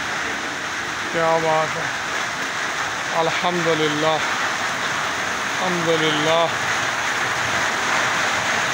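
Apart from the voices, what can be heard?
heavy rain falling in Jhelum, Pakistan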